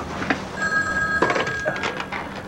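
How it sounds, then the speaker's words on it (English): A telephone rings in a room during a 1996 television drama scene, a bright trilling ring that repeats over soft background sounds, with no clear speech. "Tell me you weren't expecting a phone call."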